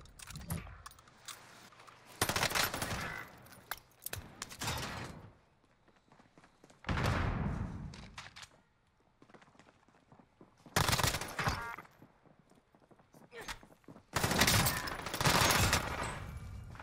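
Bursts of rapid gunfire from a Warzone match, arriving in several loud volleys separated by short pauses, with faint clatter and thuds between them.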